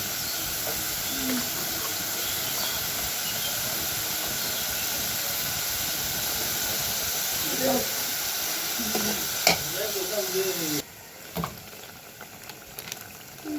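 Meat spice mix sizzles in a frying pan, a continuous close hissing fry with occasional stirring clicks, quieting slightly near the end.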